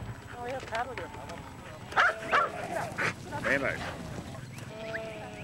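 Several working dogs riding on the back of a quad bike bark and yelp in short bursts nearby on an Australian outback sheep station, their excited calls overlapping with the quad's low engine idle.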